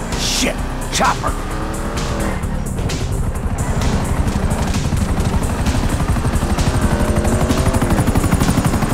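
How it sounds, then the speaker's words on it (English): Helicopter rotor chop from Grand Theft Auto V gameplay, a steady loud thumping drone mixed with car engine and tire noise, with shouted voices over it. "Chopper!"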